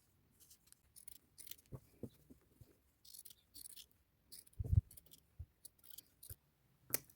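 Scissors snip through cotton fabric for shirt pocket pieces, a series of short, sharp close cuts spaced irregularly, with one heavier crunching cut midway and quiet pauses between.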